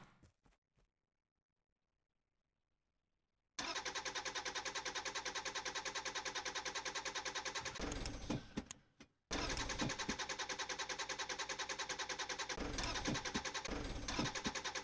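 A video-game car in a barren wasteland cranks briefly, then its engine roars to life and runs loudly and steadily, cutting out for a moment before revving back up and continuing to drive.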